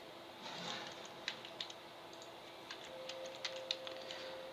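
Computer keyboard typing as an email is written, with scattered light clicks and short bursts of keystrokes, quiet and close, over a faint steady hum.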